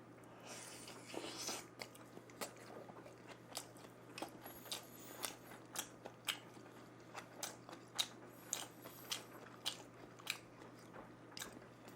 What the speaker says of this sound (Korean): 진짜 먹어보겠습니다.